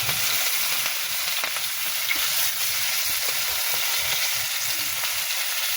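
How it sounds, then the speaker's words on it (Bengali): Onions frying in hot oil with black cumin (kalo jeere) for a tilapia and mustard dish, giving a loud, steady, close sizzle with faint stirring scrapes and no talking. "কালো জিরের পর এবার পেঁয়াজ দিলাম"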